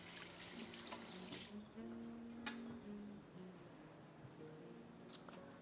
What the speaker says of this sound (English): Let's rinse this and these